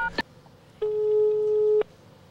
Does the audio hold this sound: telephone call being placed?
yes